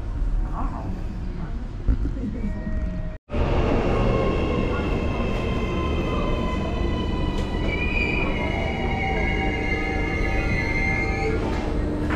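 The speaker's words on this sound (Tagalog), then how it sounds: "Dito na yung train" A train pulling into a station, its loud steady rumble joined by high squealing wheels, briefly cut off partway through and then continuing strongly; low voices are faintly audible beneath.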